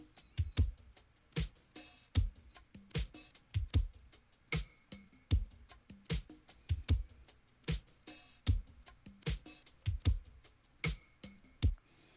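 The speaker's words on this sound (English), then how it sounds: "Bounty Beach sounding like drums." A Bounty Beach style drum loop from a sample pack plays alone: sharp, evenly spaced kick and snare hits over a light, steady percussion pattern, repeating in a tight groove throughout.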